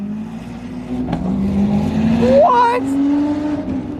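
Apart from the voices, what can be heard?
Lamborghini Aventador engine roaring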